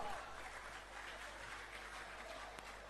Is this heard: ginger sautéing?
no